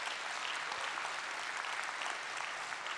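An audience at a 2018 Chilliwack mayoral debate applauds the Chamber of Commerce, a steady, moderately distant round of clapping with no talk over it.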